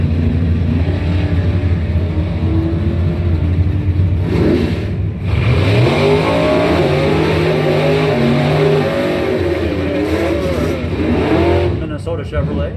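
Drag race cars, including a Chevrolet Camaro, roar loudly down the strip at a pro trophy points event, with engine pitch climbing through revving sweeps under continuous announcer commentary.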